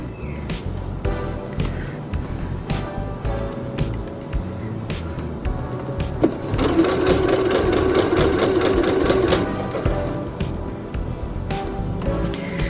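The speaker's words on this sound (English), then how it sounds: "just sew right to the very end" Sewing machine stitching along an apron strap to the very end, running in a steady fast whir of needle strokes that swells louder midway, with quieter machine noise around it.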